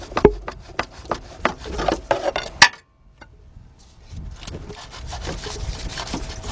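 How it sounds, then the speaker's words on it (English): Alternator on a 2001 Saturn L300 3.0 being worked loose and slid back and forth during removal, sharp metallic knocks and scraping rubs close up, a brief pause, then steadier scraping. "See how the alternator slides back like that? Just gonna drop that back and forth."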